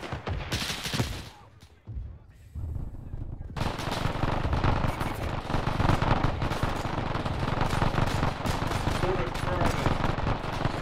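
Enemy machine gun fire in ArmA 3 during a historical campaign battle: dense, sustained bursts of automatic gunfire roll on loudly after a brief lull, mixed with other shots and faint voices.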